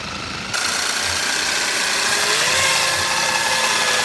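A Dremel rotary tool spins carbon-fiber RC helicopter blades, starting abruptly and settling into a loud, steady whine with a low rumbling hum that creeps up in speed.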